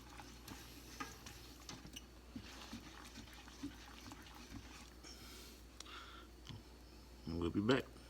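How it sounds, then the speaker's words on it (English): Roux for gumbo stirred steadily in a pan, giving faint, regular scraping strokes that repeat through the clip and swell into a louder, busier scrape near the end. "I've been stirring for probably about 3 minutes now."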